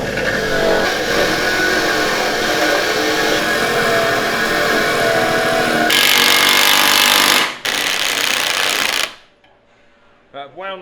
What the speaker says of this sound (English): What we're going to do is clean it up on the wire wheel